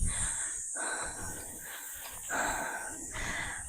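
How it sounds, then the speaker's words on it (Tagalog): Heavy, rasping breaths come in long, repeated pulls, close and loud, like someone panting hard while walking up a steep incline. "Rinig yun naman hingal ko."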